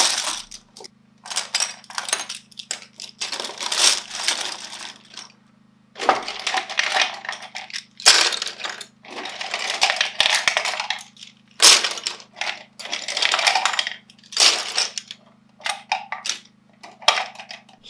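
Miscellaneous art tools such as pencils and pens are dumped out in a series of clattering bursts, loud rattling cascades separated by short pauses, with no talk.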